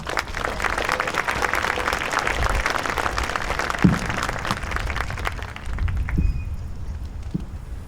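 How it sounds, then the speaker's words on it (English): A crowd applauds at a Veterans Day ceremony in Belleville, Illinois, a dense, sustained roar of many hands clapping that holds steady for several seconds before thinning slightly toward the end. "we just need to give them another little round of applause"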